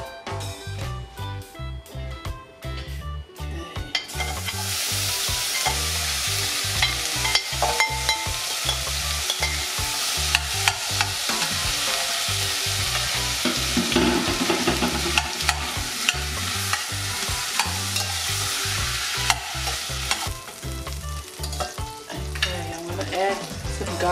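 Corned beef frying in a pot, loud steady sizzling with rapid repeated stirring and scraping of a utensil against the metal throughout, close and without talk.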